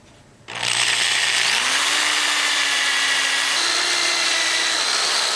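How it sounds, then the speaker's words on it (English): A power drill bores into the old handle of a rusty hammer, starting abruptly and then whining steadily and loudly, shifting pitch a couple of times as it cuts, with no talking. "Drilling it down a bit helped."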